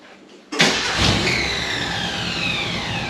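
A car at auction, shifted into neutral, cranks and fires up with a sudden loud catch after a quiet start, then settles into a steady, strong running idle close by.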